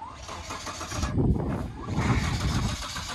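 A 2020 Ford F150 EcoBoost engine, under recall and full of diesel, cranks and sputters unevenly, rough rumbling bursts rising and falling over a few seconds close by.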